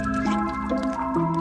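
Water drips from a ceiling onto a person in a room, with several soft, separate drips over a quiet, sustained tonal background.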